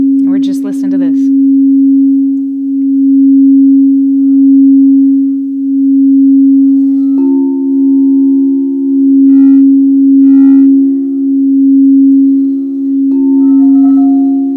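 A 432 Hz sound healing tone hums steadily, a pure sustained sine pitch held loud and unbroken throughout, with brief soft chimes and a higher tone shift layered in near the middle and end.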